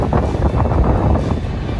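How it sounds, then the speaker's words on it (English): Strong wind on a beach roars steadily and loudly, buffeting the microphone with a constant low rumble and no speech. "It's so windy."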